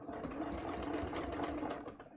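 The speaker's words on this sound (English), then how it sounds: "So I'm stitching through both seam allowances and the leg." A sewing machine runs steadily at a 3.5 stitch length, sewing through both seam allowances and the leg of a pair of pants, a continuous close whirring drone with no pauses and no talking.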